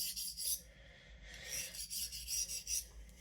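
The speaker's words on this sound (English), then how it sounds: "There, let's try some light deburring." A carbon steel paring knife is lightly deburred in a series of short, soft rasping strokes, a faint close-up scraping with brief pauses between passes.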